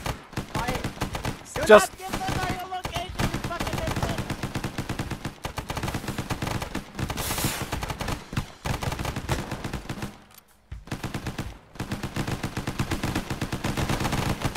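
Loud, close gunfire rattles through a military video game in rapid machine-gun bursts and single shots, nearly continuous with brief pauses, while players talk over it.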